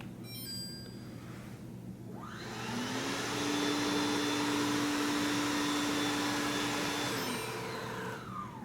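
A Samsung Powerbot robot vacuum in quiet mode starts up, its motor whirring up to a steady moderate hum with a rising tone, then winding down near the end; faint and close, with no talking.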